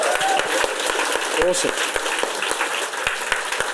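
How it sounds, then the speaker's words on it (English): Applause from a live event audience asked to clap for their families, a steady broadband patter with a voice briefly speaking over it. "can we clap it up for our families?"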